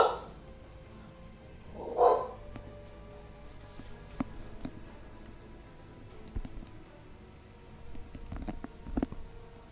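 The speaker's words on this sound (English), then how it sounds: "The dogs are barking at nothing." Dogs barking at nothing in a quiet morning setting, with a few scattered, fairly distant barks and yips separated by long quiet gaps.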